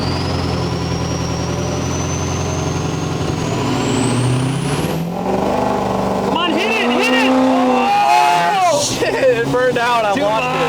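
A 1200 HP 6.0L Powerstroke diesel truck roars loudly in two-wheel drive as its tires spin, the engine note rising steadily with screeching and rumble layered underneath, while people shout and talk over it.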